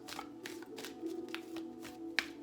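Tarot cards shuffled by hand in a few soft riffling bursts with light taps, close and quiet, ending in a sharp snap of the deck.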